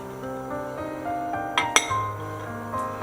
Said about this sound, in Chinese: 我们需要在碗上扣一个盘子